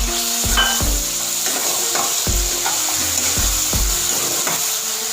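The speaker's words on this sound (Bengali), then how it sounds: "ভালো করে মশলাটা এবার কষিয়ে নেব" Spice masala for a cauliflower dish is stirred and sautéed in a pan, with rhythmic scraping strokes of a spatula roughly every half second over a continuous close sizzle.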